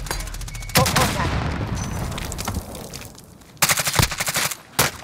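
Video game firefight with bursts of automatic gunfire and booming impacts, a loud opening volley, a rumbling lull, then two more sharp rapid bursts, with a voice talking at times.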